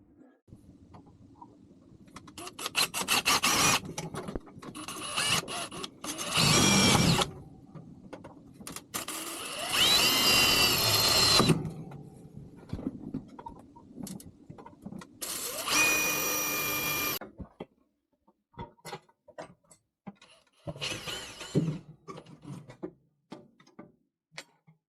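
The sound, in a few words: power drill pre-drilling particle board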